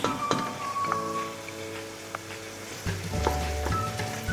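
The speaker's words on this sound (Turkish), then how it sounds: "Hepsi birlikte kavrulmasını bekleyeceğiz." Green peppers and carrots sautéing in a pan before tomato paste goes in, a soft crackling sizzle with stirring clinks and a low hum, no speech.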